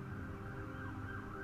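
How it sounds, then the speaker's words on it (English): An ambulance siren passes by outside a house, a steady wailing tone heard from a moderate distance, continuous and unbroken throughout, with no talking over it. "while an ambulance drives by my house"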